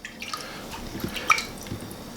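Water drips from freshly rinsed leeks being strained off in a kitchen, scattered light drops and small splashes falling irregularly against a quiet background.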